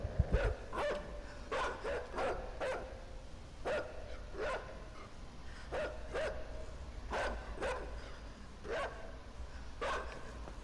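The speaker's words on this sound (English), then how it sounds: "Oh, it's a dog." Dog barking in the video game Inside: sharp, repeated barks in irregular bursts of one or two, fairly close, over a low ambient rumble, with no speech.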